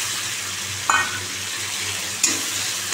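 Meat dropped into a pan of frying cumin, black pepper, turmeric and salt for a Bengali home-cooked dish, giving a steady sizzle with two sharper bursts of frying and stirring.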